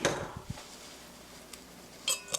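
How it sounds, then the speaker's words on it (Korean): Marinated bulgogi beef tossed with sugar in a bowl, giving a few soft wet squelches early on and then light clinks of a utensil against the bowl near the end, close and quiet with no talking. "이렇게 해서 고루 양념이 잘 배이도록 이렇게 섞어주시고요."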